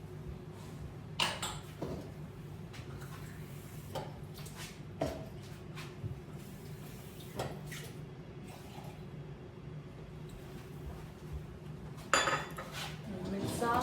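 Dishes and cutlery clink in a home kitchen while water is poured for Turkish coffee, with scattered light clinks and a low steady hum beneath quiet background talk.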